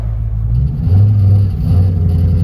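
A car with a newly installed 5-speed manual transmission drives off, its engine rumbling low and steady close by, rising slightly in pitch as it pulls away and settles into a firm drone.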